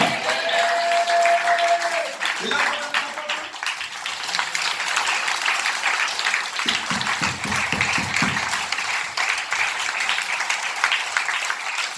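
An audience at a Telugu Christian gospel sermon claps together in sustained, dense applause, filling the hall from start to finish with a brief tonal sound at the opening.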